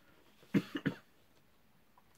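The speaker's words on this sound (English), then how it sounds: "Sorry, I keep coughing." A person coughs three times in quick succession, close and fairly loud, followed by near silence apart from a faint rustle at the end.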